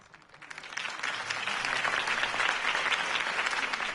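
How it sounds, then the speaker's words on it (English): Applause from a crowd after a campaign speech in the Batman Telltale video game builds quickly from quiet to a dense, sustained clapping that holds loud and steady to the end. "If only Mr. Wayne, my campaign's largest backer, could have heard that applause"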